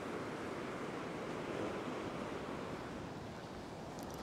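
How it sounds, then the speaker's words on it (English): Ocean surf breaking on a beach while fishing, a steady broad wash of waves with wind rushing over the microphone, no voices. "the waves seem to hold it down and drag it"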